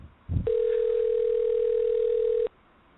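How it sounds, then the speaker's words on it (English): A single ringback tone of an outgoing telephone call, a steady electronic pitch lasting about two seconds with a short thump just before it, heard clearly with quiet background on either side. "A lot of rings."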